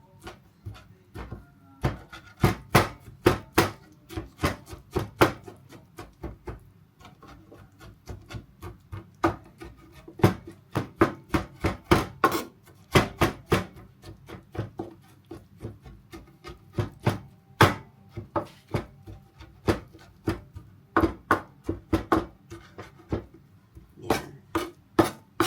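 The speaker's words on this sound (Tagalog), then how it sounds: "Hiwain natin to kasi itotorta natin to." A knife slices through eggplant on a cutting board for tortang talong, giving sharp, repeated chopping taps in irregular bursts across the whole stretch, close and distinct with no talk.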